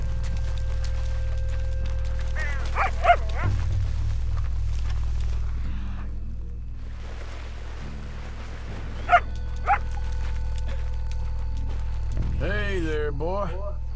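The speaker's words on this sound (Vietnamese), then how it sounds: "Kết thân với con chó đã." Dog barking and whimpering in the open-world game Red Dead Redemption 2, heard in two short bursts of yips amid a steady low rumble of ambience, with someone talking over much of it.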